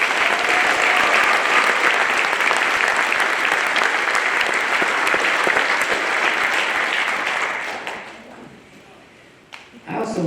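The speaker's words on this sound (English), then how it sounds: "Please join me in giving our faculty and staff a round of applause for their tireless efforts" A commencement ceremony audience applauds faculty and staff with sustained, dense clapping from a large crowd that holds steady for several seconds and then fades out, followed by a couple of isolated thumps.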